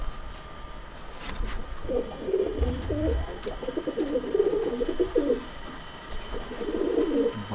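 Pure old-line Madrasi pigeons coo close by, a run of rolling, throaty calls in two bursts over a low ambient hum.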